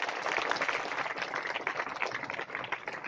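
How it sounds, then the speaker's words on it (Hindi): A crowd at a school assembly claps steadily: a dense, continuous roar of hands that stays loud and close for about three seconds, with no speech over it. "एक बार फिर से तालियों की आवाज।"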